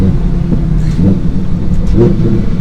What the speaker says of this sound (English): The exhaust definitely woke up a little bit.